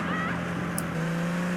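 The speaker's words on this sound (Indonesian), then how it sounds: "Wah, kenceng banget mobil ini." A fast car in GTA San Andreas, its engine a steady loud drone that holds an even pitch, then drops slightly lower partway through, with no talk over it.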